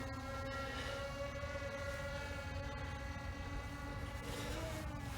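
A Skydio 2 drone flying backwards and climbing at full throttle gives off a steady, sustained high-pitched whine with layered tonal hum, continuous and fairly faint at a distance.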